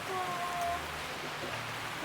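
Heavy rain falling as a steady, even hiss at moderate distance, continuous and fairly quiet.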